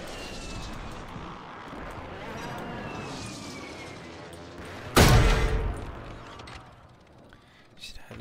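Call of Duty Warzone airstrike: a loud, close explosive blast bursts out midway and rumbles off, set against ongoing gunfire and aircraft-like game noise.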